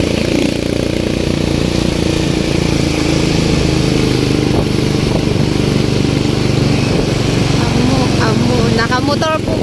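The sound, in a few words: motorcycle arriving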